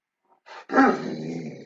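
A dog growls low and grumpily, a short rumbling snarl rising after a couple of faint sniffs, close to the microphone and alone without talk.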